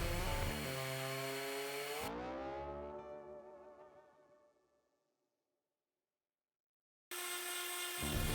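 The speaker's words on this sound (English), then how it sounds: "I brought them over to the router table, used the roundover bit, and really softened up the edges." A router table fitted with a roundover bit rounds the edges of small scrap-wood coasters, a loud steady motor whine with cutting that fades out mid-clip, a few seconds of silence, then the machine running again at full volume.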